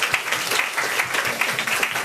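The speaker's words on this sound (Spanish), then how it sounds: "Un aplauso para ellos." At a university talk on social service abroad, an audience applauds former students, a continuous dense patter of clapping held at an even level for a couple of seconds.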